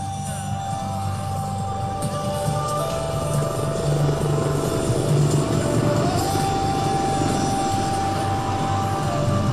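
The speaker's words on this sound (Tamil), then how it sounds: "சூரியகிரண் ஏரோபாட்டிக் டீம் வான் நடனத்தில் ஈடுபடக்கூடிய சாரங் ஹெலிகாப்டர் அணி ஆகியவை தங்களது வான் கலைகளால் மக்களை பரவசத்தில் ஆழ்த்தும்" Military jets and helicopters fly over Marina beach in Chennai during an air show featuring the Suryakiran aerobatic team and Sarang helicopter team. A steady, loud engine roar and rumble persist throughout, with a tonal engine whine and no talk.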